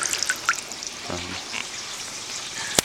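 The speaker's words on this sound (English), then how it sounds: "You can see this is a very strong outflow from the siphon hole of water" Water gushes strongly out of a siphon hole as a steady, close rushing trickle with a few brief splashes and clicks.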